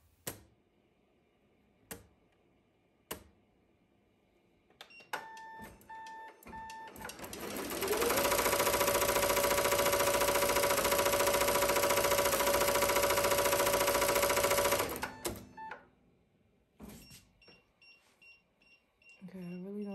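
A Ricoma MT1501 embroidery machine stitches in a loud, fast, steady whir for about seven seconds. It is preceded by beeps and clicks, followed by more clicks and beeps, and faint talking is heard in between.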